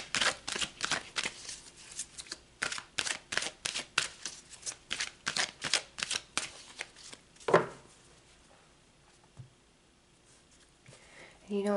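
A deck of tarot cards is shuffled in a rapid series of crisp, close riffling slaps, then cut, followed by a few faint handling sounds as the cards settle.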